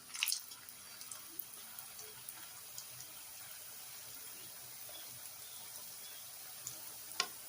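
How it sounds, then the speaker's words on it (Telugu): Badusha sweets fry in hot oil with a faint, steady sizzling hiss, broken by a few soft pops and crackles near the start and end. "మనమైతే ఇదే ప్రాసెస్లో మిగతా బాదుషాలని కూడా ఫ్రై చేసుకుందాం"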